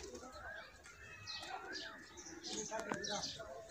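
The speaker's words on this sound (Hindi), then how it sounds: "चौथा कबूतर आ गया वा" A racing pigeon coos softly on arrival at its loft in a village pigeon race, low repeated coos mixed with chirps and outdoor background noise.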